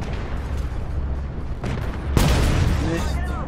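Main gun of a Merkava 4 tank firing in a combat video game, a single deep, heavy boom with a rumbling tail over constant engine and battle noise.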